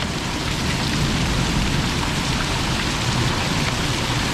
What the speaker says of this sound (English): And we're getting hail right now.